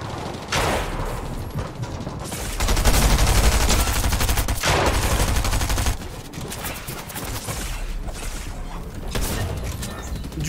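Gunfire from a battle royale video game match, bursts of rapid shots layered over loud explosive rumble, with a heavy sustained stretch in the middle and dense crackling throughout, a voice talking over part of it.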